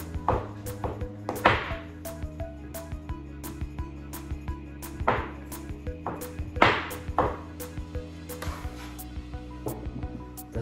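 Butter diced into small pieces with a knife on a board for laminated brioche: irregular sharp chops and taps, some louder than others, over a steady humming background.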